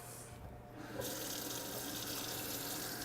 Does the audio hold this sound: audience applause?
no